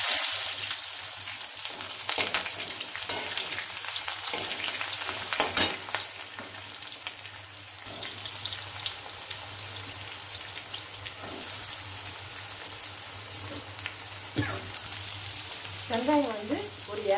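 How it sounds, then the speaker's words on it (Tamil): Thinly sliced onions go into hot oil with popped mustard seeds and urad dal for a Tamil potato masala, sizzling and frying steadily up close, with occasional stirring and crackles and no talking. "கடுகு வெடிச்சிட்டு வெங்காயம் போடுறேன்."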